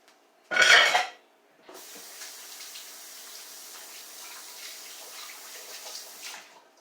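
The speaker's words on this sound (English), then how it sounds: "I'm going to rinse my hands before I form it into a loaf." Running tap water pours steadily over hands at a kitchen sink while making a crockpot meatloaf, after a brief louder splash; close and continuous, no talking.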